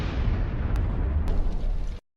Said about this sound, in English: They're getting hotter and hotter, leading to an incredibly powerful explosion.